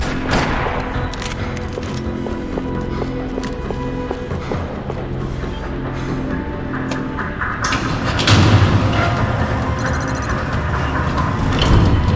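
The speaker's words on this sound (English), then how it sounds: "Another parking lot rattling with gunfire." Bursts of rapid gunfire crackle through a steady Max Payne 3 game soundscape in a parking lot, with footsteps and a louder stretch of shooting near the end.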